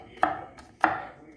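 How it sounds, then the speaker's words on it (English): A knife chops a baby carrot into small pieces on a cutting board, two sharp, close chops about half a second apart with a faint tap between them. "because that's a baby carrot, so I also cut small like this"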